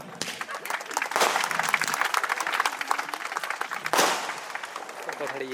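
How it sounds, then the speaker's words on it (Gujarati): An audience applauds to welcome a female singer at a folk music gathering celebrating Jalaram Bapa's birth anniversary, sustained crowd clapping with a swell midway, mixed with voices and hall noise. "એમને આપણે તાળીઓથી વધાવી લેશું"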